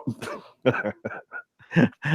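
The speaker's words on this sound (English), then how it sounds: "Coughing. What's up with that?" Several short, harsh bursts of coughing or throat clearing, close and fairly loud, separated by brief pauses.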